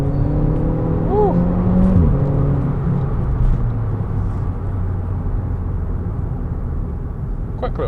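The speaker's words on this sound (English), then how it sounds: "Quick little car." A small, quick car whooshes past on the road with a rising and falling engine whine, loud at first and fading into steady road and wind rumble.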